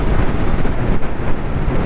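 Wind across a wide open field roars loudly into the microphone during a ride on a 72V electric bobber, a constant low rumble with slight gusting and no voices.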